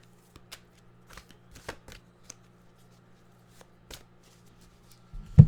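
A tarot deck is shuffled and cut, producing soft, sparse card riffles and taps close by. Toward the end a louder thump sounds as the deck is set down.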